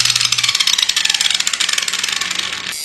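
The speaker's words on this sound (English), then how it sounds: "cheaply made gears add up to a bunch of noise and some vibration, as you can hear now with the sound back up to its original levels" Gear noise from a Chicago Harbor Freight 4-1/2 inch angle grinder with cheaply made gears: a loud, close, rapid ratcheting whine with steady pulsing vibration for a few seconds before it stops.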